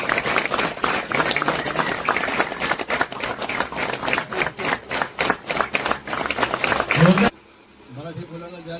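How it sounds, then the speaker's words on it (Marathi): An audience at a temple puja ceremony breaks into vigorous, close, continuous clapping that ends abruptly, followed by a brief moment of quieter speech. "एकदा जोरदार टाळ्या होऊन जाऊ दे सगळ्यांकडून."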